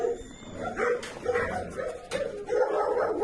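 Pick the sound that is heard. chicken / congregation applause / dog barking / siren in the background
dog barking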